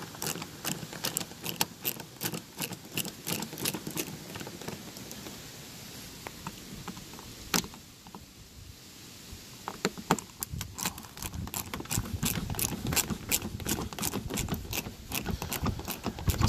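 T15 Torx driver backing out the screws on a Ford F250 truck light lens, with sharp intermittent clicks and ticks, close and fairly faint, with quieter stretches between bursts.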